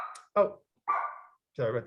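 A house dog barks three times in separate, evenly spaced bursts, fairly close, with a person speaking briefly between them.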